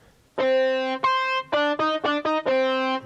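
A bright, buzzy synth lead from a Roland Fantom with gritty overdrive plays a short phrase of held and choppy notes, loud and close with no voices.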